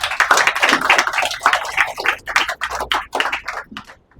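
A burst of applause and clapping from a crowd cheering children on stage, dense and steady for several seconds, tapering off toward the end.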